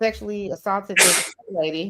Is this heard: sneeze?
yes